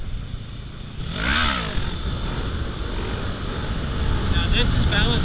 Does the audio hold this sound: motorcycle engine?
yes